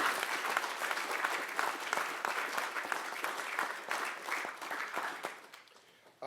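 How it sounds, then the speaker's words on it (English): Round of applause for a principal at a general council meeting, many hands clapping steadily at moderate volume for several seconds, then tapering off and fading to near quiet at the end. "I think we should give the principal another round of applause."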